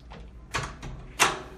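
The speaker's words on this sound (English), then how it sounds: "Shut the door." A hotel room door in a Hampton Inn with RFID card locks swings shut, giving two distinct thuds about half a second apart, the second louder, close by and with no talking.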